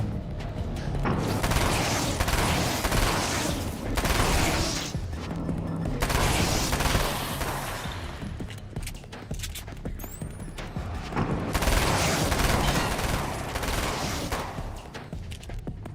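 Rapid SMG gunfire from the horror game Alan Wake American Nightmare crackles in dense, sustained bursts with brief pauses between them, loud and continuous against the game's ambient noise.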